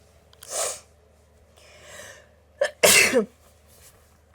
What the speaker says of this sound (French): Je vais éternuer.